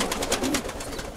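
Pigeons cooing inside a dovecote, a close, fairly loud run of soft throaty coos repeating in quick pulses over a low murmur.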